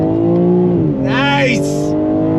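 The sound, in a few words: 2022 BMW M3 accelerating on throttle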